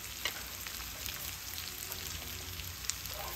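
Prawn masala curry with turmeric cooks in a pan with a close, steady, even sizzle and soft crackling throughout.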